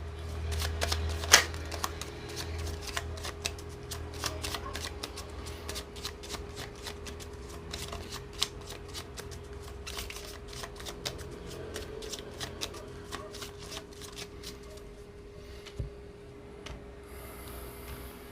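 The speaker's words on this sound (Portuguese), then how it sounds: "Vamos colocar então o baralho cigano." A Gypsy fortune-telling card deck is shuffled in a steady run of soft riffling and flicking cards for about eighteen seconds, fairly quiet and close, with no one talking.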